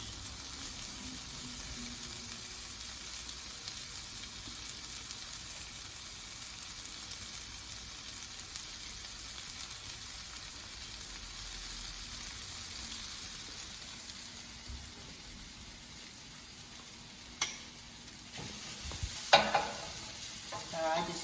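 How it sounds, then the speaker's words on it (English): Crumbled tofu cooking in a pan and being chopped with a spoon, a soft continuous sizzle with a few sharp scraping taps near the end and no talk. "And you're just going to cook it up and then use a spoon to chop it."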